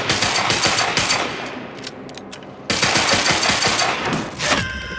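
Gunfire in the video game Quantum Break comes in rapid, loud bursts of shots. A short lull falls in the middle, then the firing resumes just as hard.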